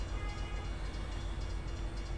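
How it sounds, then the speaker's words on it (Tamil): Train rolling past close by in the American Truck Simulator game, a steady low rumble with broad rail noise held for the whole stretch and no voices. "ஃபர்ஸ்ட் டைம் நம்ம ட்ரெயினை பார்க்க போகிறோம் பக்கத்துலேருந்து"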